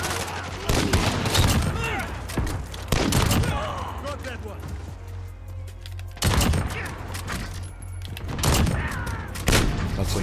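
Rapid bursts of submachine gun fire in a Modern Warfare multiplayer match, loud and close, in several volleys across the clip, with players talking over the shooting.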